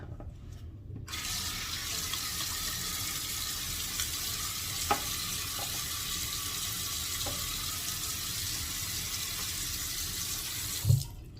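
A tap runs steadily with a constant rushing hiss of water, broken by a few faint knocks and a brief clunk near the end.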